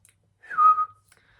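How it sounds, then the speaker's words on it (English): A single short whistle, a clear rising then steady tone lasting under half a second, close and alone in an otherwise quiet moment. "Superman whistles."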